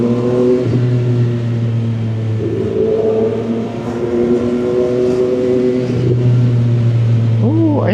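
A 675SR-R motorcycle engine on stock settings revs loudly with a rising and falling drone and brief quickshifter pops, with voices underneath.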